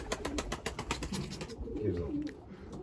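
Sivas tumbler pigeons cooing softly in a loft, a few low repeated coos amid faint shuffling and background noise, no talking.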